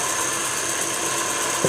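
Wood lathe spinning a Christmas tree ornament blank while a roughing gouge cuts it, a steady continuous whirring hum with a grinding scrape, close and even throughout.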